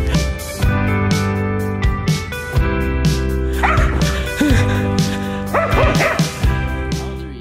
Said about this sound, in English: So here is another pupper who was either a bit nervous or very excited to see us.